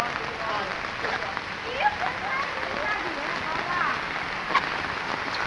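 Rainwater from overflowing drainage channels pours along a street in Shivanagar, a steady loud rushing wash with faint voices under it.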